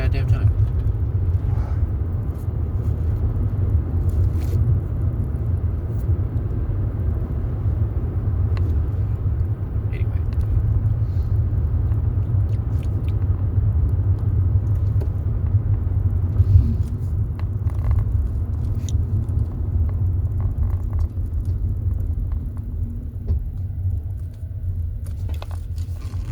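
A car driving along the road, a steady low engine and road rumble that holds at an even level throughout, heard from inside the vehicle while someone talks over it.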